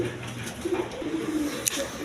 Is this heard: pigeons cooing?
yes